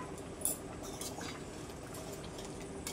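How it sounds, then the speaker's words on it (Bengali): Hilsa fish curry bubbles steadily in a covered pot, a soft continuous simmering hiss with faint popping and an occasional light clink, close and moderately quiet with no talking. "কি সুন্দর ফুটছে।"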